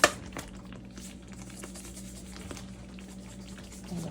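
Cajun pasta sauce bubbling and popping in a pan, a steady low simmer with soft scattered pops and a brief knock at the start, fairly quiet throughout with no talk.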